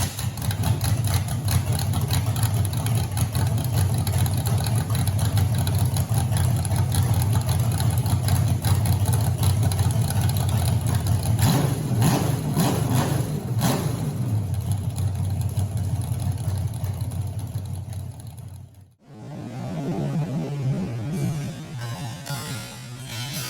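Roller-cam 302 V8 in a Demon build cranks to life for the first time and runs at a steady, loud idle with a slight rhythmic lope, then cuts off abruptly near the end before a brief, quieter restart or rev.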